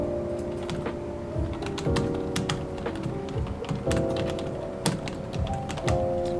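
Fingers type on a white Mi MIIIW non-mechanical keyboard, producing a steady run of soft, close, irregular key clicks over a sustained tonal background.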